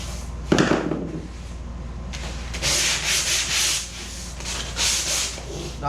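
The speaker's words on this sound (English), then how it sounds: "You can see I'm sanding on it." Hand sanding the wood of a homemade 11-foot foam and fabric kayak: rhythmic, close scratchy strokes in repeated bursts, with a knock near the start.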